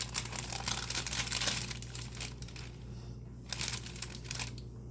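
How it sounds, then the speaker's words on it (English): Sterile glove wrapper being unwrapped on a flat, dry surface, with steady close paper crinkling and crackling that swells early and then continues in softer rustles over a low background hum. "I will start unwrapping this"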